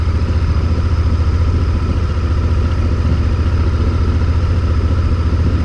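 A Honda Varadero XL1000V motorcycle rolls slowly along a green lane, its engine a steady low throbbing idle-like rumble with faint clatter, continuous and close throughout.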